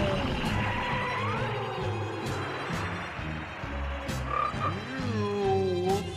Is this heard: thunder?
no